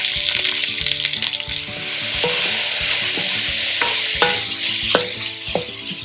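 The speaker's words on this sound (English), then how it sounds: "Give it a quick stir." Sliced onion and leek with a pinch of salt are stirred in a hot pot, a loud steady sizzle under repeated scraping and knocking of the spoon against the pot, with no talking.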